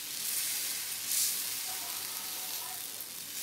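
A spoonful of rawa batter lands on a hot, lightly oiled pan and sizzles with a steady, fairly quiet hiss throughout, with no talking.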